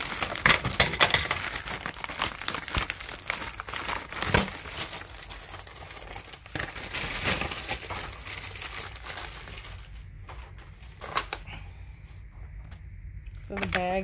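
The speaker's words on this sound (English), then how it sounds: "And the bag that it comes in." A plastic resealable bag crinkles and rustles up close in repeated sharp bursts, with a voice talking at times and quieter stretches toward the end.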